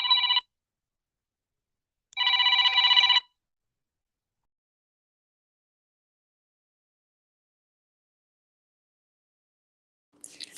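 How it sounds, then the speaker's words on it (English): A phone rings with an incoming call: two electronic ringtone bursts, a short one then a longer one about two seconds later, followed by quiet and a faint sound near the end. "She got a call. I could hear it."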